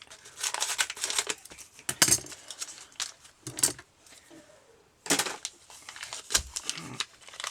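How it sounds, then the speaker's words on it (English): Scissors cut open a packet of DAS modelling clay, producing a string of close crinkling, snipping and rustling bursts of plastic packaging with brief pauses between them. "So I shall take the scissors"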